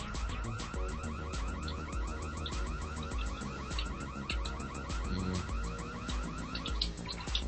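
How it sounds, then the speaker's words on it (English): A car alarm blares in the video game Saints Row IV, a loud, continuous repeating electronic pattern with rapid rhythmic pulses that fills the whole stretch alongside busy game sound. "Czemu alarm się włączył?"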